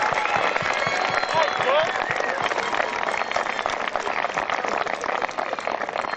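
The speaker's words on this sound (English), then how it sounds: "Please give them all together a round of applause for tremendous success." Steady applause fills the hall at a high school commencement in June 2017 as the graduating students are honored, a dense, even patter of many hands with faint voices mixed in.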